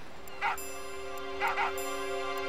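Dog in Final Fantasy VIII gives two or three short, yappy barks or yips over a steady game soundtrack, with a quieter gap between the bursts.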